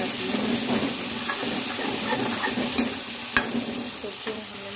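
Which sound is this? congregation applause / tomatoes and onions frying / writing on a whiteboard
tomatoes and onions frying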